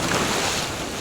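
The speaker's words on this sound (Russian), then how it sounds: "Волна есть, но она такая мягкая, такая большая, мягкая." Soft, large ocean swells roll past a swimmer filming in open sea water off Peru, heard as a continuous broadband wash of surf and water noise with wind buffeting close to the microphone.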